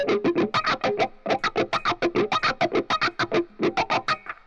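An electric guitar played through a wah pedal on a Fender Tone Master Pro gives a fast run of short, punchy, distorted notes, with the filtered tone sweeping and choppy rhythmic strums close and loud.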